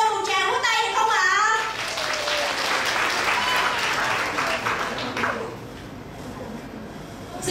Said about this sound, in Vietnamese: Nếu như mà ổn thì xin cho chúng tôi một tràng vỗ tay được không ạ?